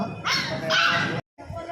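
A dog barks and whimpers close by in a few high, strained yelps, with a person talking over and around the sounds before a short silent gap.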